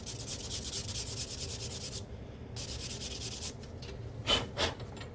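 Steady rhythmic scratchy rubbing of 600-grit sandpaper over a full-grain leather belt, repeated back-and-forth strokes with a short pause and a couple of louder scrapes near the end.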